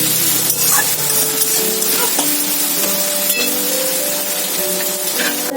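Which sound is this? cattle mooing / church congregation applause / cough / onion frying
onion frying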